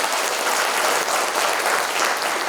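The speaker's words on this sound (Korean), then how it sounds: "공감하시면 박수 한번 부탁드리겠습니다." An audience applauds at a book launch event with a dense, even wash of many hands clapping, loud and sustained throughout without any break.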